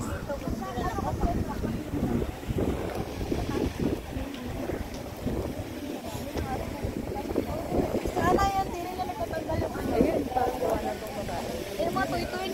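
Steady gusting mountain wind buffets the microphone, rumbling low and continuous, with people talking faintly underneath throughout.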